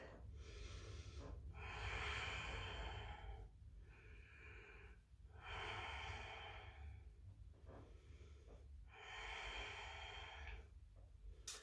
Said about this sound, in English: 3 Darth Vader breaths.